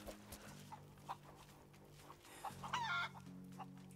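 Chicken clucking in the game Rise of the Tomb Raider, scattered short clucks over a low steady game hum, with a brief louder squawking burst near the middle, no voices.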